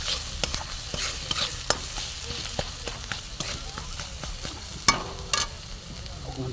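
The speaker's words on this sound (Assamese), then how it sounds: "এয়া মছলাখিনি ধুনীয়াকৈ ভুনা হৈছে" Ground spices with salt sizzle in a pan for a mustard fish curry, a soft continuous fry broken by repeated scraping stirs of a spoon, close and moderately quiet.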